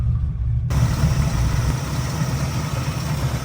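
A 1967 Ford Mustang fastback with a 289 V8, Edelbrock carburettor and headers idles steadily close by, a deep continuous rumble that holds even for the whole stretch after a brief quieter start.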